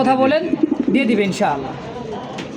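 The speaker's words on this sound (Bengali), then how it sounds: "আলহামদুলিল্লাহ খুব সুন্দর আছে কবুতর দুইটা" American Show King pigeons coo softly in the background while someone talks close by, their low throaty calls mostly buried under his voice.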